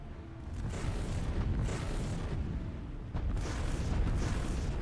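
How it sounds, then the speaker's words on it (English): Battleship giga cannons and kinetic artillery firing in a Stellaris space battle against a citadel station: a steady stream of deep rumbling booms and blasts that overlap into a continuous, loud barrage. "giga cannons doing more damage than those Devastator torpedoes ever did. Kinetic artillery taking out most of the shields."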